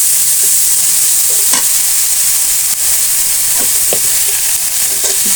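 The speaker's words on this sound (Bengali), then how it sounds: "আর একটু কষিয়ে নিব।" A spiced mixture with turmeric, chilli powder and salt being stir-fried in a pan, giving a loud, continuous close-up sizzle with occasional spatula scrapes.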